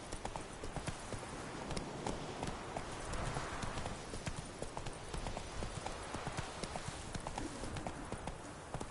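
Horse hooves clip-clop in a brisk, steady rhythm as a rider urges the horse along, close and clear over a busy outdoor background.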